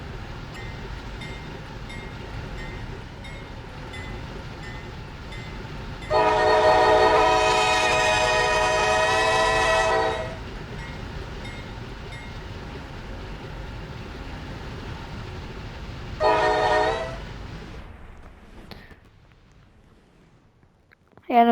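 A locomotive horn in a train-driving video game sounds one long loud blast of about four seconds, then a shorter second blast, over a steady rolling engine rumble that fades toward the end.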